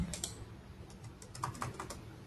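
Fingers type on a computer keyboard, giving a quick, uneven run of soft key clicks at close range. The clicks are fairly quiet, and no one speaks.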